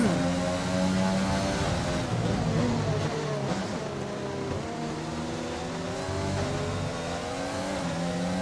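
Several Formula 1 race car engines at full throttle in the F1 2020 video game, a loud steady high-pitched whine with layered rising and falling pitches as cars pass and accelerate, continuous for the whole stretch.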